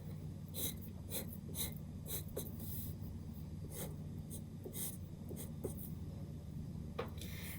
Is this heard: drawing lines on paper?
yes